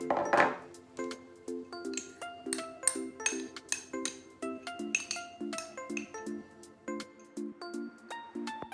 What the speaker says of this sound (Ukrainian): Змішуємо соєвий соус, мед і гірчицю.